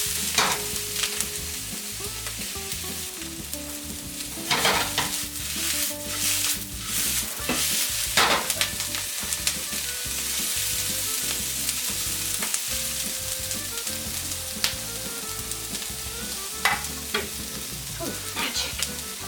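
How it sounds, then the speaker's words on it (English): Garlic Brussels sprouts fry hard in a pan kept constantly moving, a steady crackling sizzle broken by repeated scraping, stirring strokes and pan shakes, close and fairly loud throughout with no talking. "get almost kind of like a hard saute or a bit of a fry on those leaves to get that crisp going"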